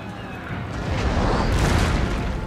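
Cannon fire and explosions in a Napoleonic-era battle in Total War: Napoleon, a dense, continuous rumble of booms and bursts swelling slightly louder midway, with no clear separate shots.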